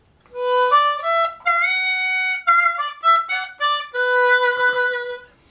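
Diatonic blues harmonica in Easy Third tuning playing a third-position riff: a clear phrase of reedy held and bent notes with short breaks between, close and solo with no voices.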